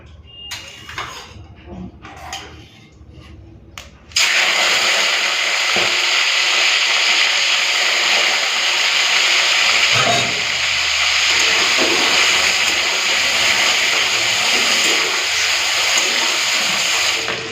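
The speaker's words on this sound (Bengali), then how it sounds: "তো তেলটা গরম হয়ে গেছে এখন মাছের তেলটা ভেজে নেব" Fish fat hits hot oil in a kadai and erupts into a loud, continuous sizzle and hiss that holds steady after a few quieter clatters and some talk at the start.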